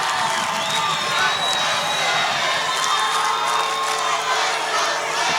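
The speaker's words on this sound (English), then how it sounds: "Crowd coming to life." A large crowd roars and cheers continuously at an outdoor football game in Chicago on a cold-weather day, with dense, sustained noise throughout.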